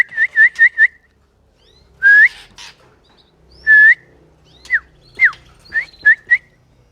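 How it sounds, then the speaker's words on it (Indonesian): Someone whistles short, bright repeated phrases to birds in a morning aviary, with quick bursts of chirping bird calls answering in between, close and clear against a quiet background. "Coba kita siulin."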